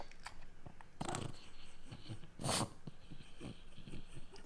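A picky dog named Newton sniffs at an unfamiliar new food close up, with quick snuffling breaths, a couple of louder snorts and small rustling noises in a quiet room.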